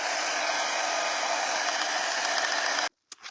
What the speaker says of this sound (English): I'm going to have to hit it with a blow dryer